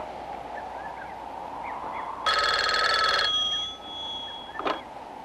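Telephone bell rings once in a short, loud, metallic burst about a second long during a phone-line check, over a steady hum of background noise, followed by a faint clunk.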